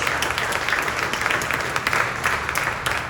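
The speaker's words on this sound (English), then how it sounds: "let's give them a big round of applause for all that they do for us" Town hall audience with Oklahoma's lieutenant governor breaks into sustained applause, a loud, dense patter of many hands clapping evenly throughout with no speech on top.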